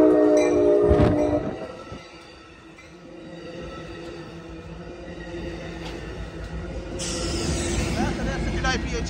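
An Amtrak Capital Corridor passenger train led by an F59PHI locomotive rumbles past close by at 98th Avenue in Oakland, horn sounding near the start, with steady rolling noise and a hiss of brakes building toward the end.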